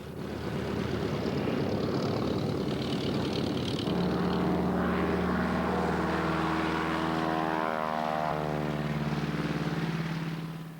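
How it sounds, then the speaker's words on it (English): Propeller engine of a de Havilland Beaver, a high-wing Army Air Corps monoplane, drones loudly and steadily throughout, its tone shifting partway as the engine note changes during flight. "It is powering a de Havilland Beaver, borrowed from the Army Air Corps"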